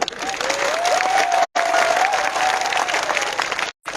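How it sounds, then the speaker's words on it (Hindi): A crowd at a political gathering in Santirbazar, Tripura, applauding for Droupadi Murmu: dense, sustained clapping from many hands, loud and continuous, with a thin whistle-like tone running through it and two brief abrupt cuts. "द्रौपदी मुर्मू के लिए सब ताली मारो।"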